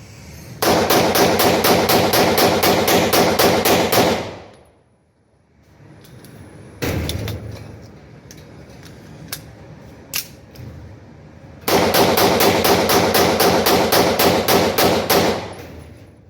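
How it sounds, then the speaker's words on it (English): Beretta 92 FS pistol with a chrome-lined barrel fired in two long, rapid, evenly spaced strings of loud shots, separated by a quieter pause with a few isolated clicks and knocks. "Beretta 92 FS with chrome line barrel. Test fire."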